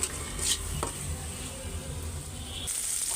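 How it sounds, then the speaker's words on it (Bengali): Spice paste with tomato and green chilli frying in oil for a fish curry, stirred briskly: a close, continuous sizzle broken by spatula scrapes and clinks against the pan. "মশলাটা ভালো করে কষায় তেলের উপরে উঠাই ফেলছি"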